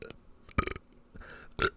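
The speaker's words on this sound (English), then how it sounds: "I just burped." A loud burp, brief and close, with a few shorter belching bursts around it, from someone who says Diet Coke has upset their stomach.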